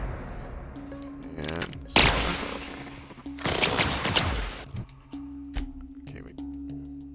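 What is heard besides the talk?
assault rifle gunfire in The Outer Worlds video game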